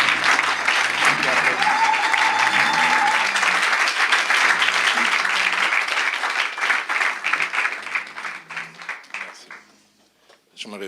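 A church congregation applauds and cheers for an apostle, loud sustained clapping mixed with crowd voices and a speaker over it, tapering off toward the end.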